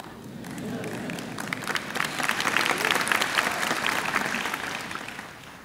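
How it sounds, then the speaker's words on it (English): Steady, dense applause from a large audience at a 2015 university commencement address, swelling slightly toward the middle and holding loud throughout with no break. "Some of you aren't applauding."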